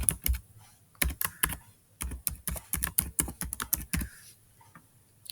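Rapid typing on a computer keyboard while entering an email address, bursts of quick clicky keystrokes in uneven clusters with short pauses, close and fairly quiet, no talking.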